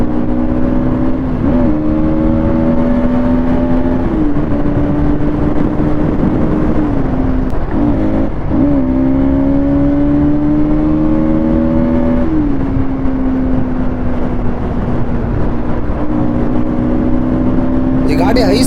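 A Bajaj Pulsar NS 200, a 200cc motorcycle, pulls hard at full throttle on a highway. Its engine note climbs steadily, dips briefly at several gear changes and climbs again, loud and continuous under steady wind rush.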